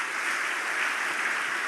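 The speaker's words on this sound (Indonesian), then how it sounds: "Tepuk tangan buat Tuhan Yesus." Steady, dense applause from a church congregation fills the space, even and unbroken, with no voices rising above it.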